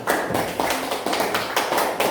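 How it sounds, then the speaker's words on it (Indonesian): Audience clapping hands at a classroom group presentation, a dense, steady patter of many hands with slight surges in intensity throughout. "Tepuk tangan dulu untuk kelompok Bapak Dokta."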